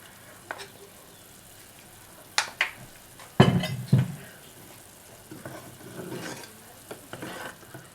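A pan of tamarind mixture for pepper puliyotharai boils and sizzles while ground spice powder is tipped in and stirred, with a few sharp scraping clacks and a burst of bubbling, close and moderately loud.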